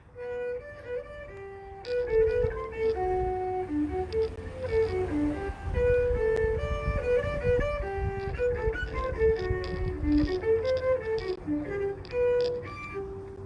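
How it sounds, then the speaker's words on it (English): A violin plays a bowed melody in a high register, flowing and continuous, with sustained notes over a softer low accompaniment. "So that's something like a violin."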